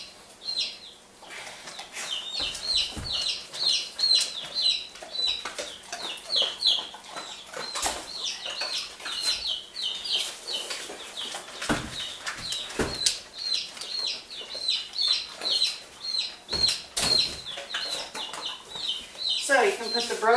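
Baby chicks in a brooder set up inside a pack n play, a busy chorus of high chirps and peeps going on constantly, with some soft scuffling and wing flaps, fairly close.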